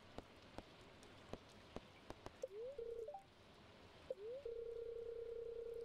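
Soft steady rain patter in the Stardew Valley video game, a faint continuous hiss broken by scattered drip clicks, with short electronic game tones near the end.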